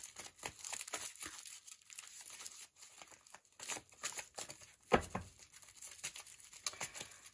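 Tarot cards are shuffled and drawn by hand for a reading: soft rustling, sliding and crinkling flicks come in short bursts, with one sharper snap midway, close and fairly quiet.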